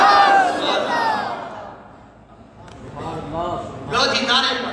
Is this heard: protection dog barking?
no